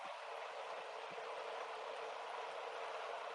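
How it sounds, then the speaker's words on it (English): A model train runs steadily along its tracks indoors, giving a continuous whirring rumble with faint rhythmic clicks, even in level throughout with no talking. "it looks kind of cool right now with the train and the Lone Ranger train behind it"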